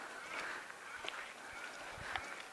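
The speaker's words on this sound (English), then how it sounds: "you can hear the neighbor's ducks quacking" Ducks at a neighboring property give faint, distant quacks and honks in a few short bursts over a soft outdoor hiss.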